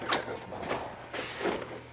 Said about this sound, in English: I gotta open my door up.